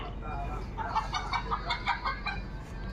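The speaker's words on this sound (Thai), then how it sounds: "แม่ไก่" A hen clucks softly in a quick run of short, close notes over a low background hum.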